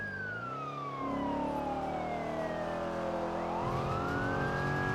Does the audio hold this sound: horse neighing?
no